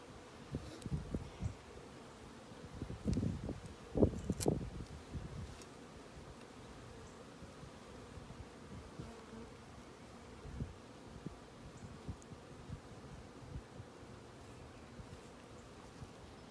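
Honeybees buzz faintly around an open hive during a spring inspection, under soft rustling and a few handling knocks, with the noise louder in the first few seconds.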